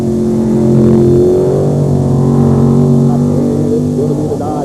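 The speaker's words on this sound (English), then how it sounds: "First round matchup, the Warrior in the far lane up against the Devil's Dodge in the near lane." Two drag racing trucks, the Warrior and the Devil's Dodge, at a 1995 beach drag event in Wildwood, NJ, launching with a loud, sustained engine roar that swells and holds near, then eases slightly, with no talk.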